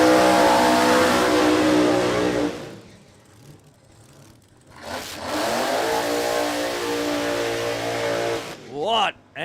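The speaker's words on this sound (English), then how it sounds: "Two blown rear engine dragsters about to make some noise." Two blown rear-engine dragsters roar loudly at a drag strip, cut briefly, then roar again at full throttle before sharp revving bursts at the end, with a voice speaking under the din.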